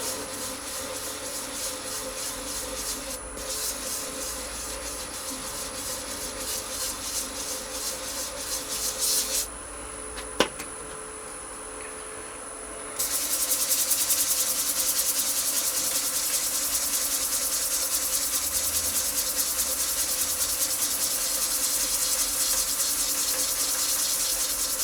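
Hand sanding across a hardened epoxy resin surface makes a continuous close, dry rubbing hiss that shifts in tone partway through, with one sharp tap in the middle.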